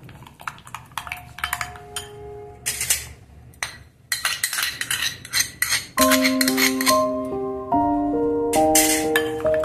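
Tandoori chicken marinade with kasuri methi being mixed in a bowl, with repeated clinks and scrapes of a utensil against the dish. Bright metallic ringing tones stand out, loud and close, with no talking.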